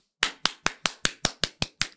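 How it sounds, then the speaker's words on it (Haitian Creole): Clapping from a congregation gathering: nine sharp, evenly spaced claps in a steady rhythm, close and crisp against a quiet background, with no talking. "Applaudissez, frères et sœurs bien-aimés."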